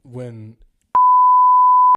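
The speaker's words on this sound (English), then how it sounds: "I'm gonna censor that for sure. just beep." Someone speaks briefly, then a loud steady censor beep at a single pure pitch cuts in and holds for about a second before stopping abruptly.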